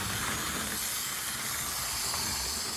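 Vintage DC HO-scale model locomotive running on a track layout: a continuous whirring motor hiss with faint rail rattle, steady and close, with no voices.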